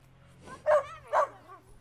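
A family dog barks twice in a home, two sharp separated barks standing out clearly over faint background hum.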